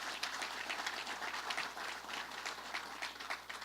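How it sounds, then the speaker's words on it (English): A room of listeners claps for an honoured professional at a community college event with the governor, the sustained applause moderately loud and even, with individual claps faintly distinct through the wash. "We should give him a round of applause."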